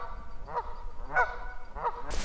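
Ducks call as they fly back over Montana elk country, giving three separate honking calls spaced about half a second apart, moderately distant, over a low windy background with no talking.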